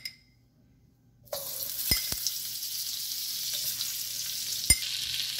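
Butter hits a hot pan for fried rice after a near-silent start, bursting into a steady close sizzle with a few sharp utensil clinks.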